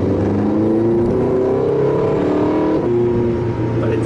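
Porsche 918 Spyder hybrid hypercar with an all-wheel-drive V8 drivetrain, heard from inside as a steady, loud engine drone whose pitch rises and settles over four seconds, with no talking.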